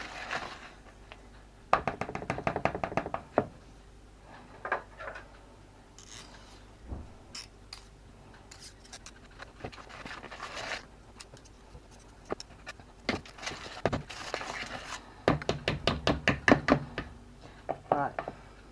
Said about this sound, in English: Now let's try and give this a mix around.